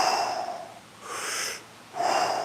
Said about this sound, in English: So nice big full breaths in, letting go.